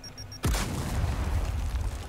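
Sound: grenade explosion in video game Gears of War 4

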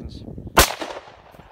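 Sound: gunshots firing 5.62 full metal jacket rounds

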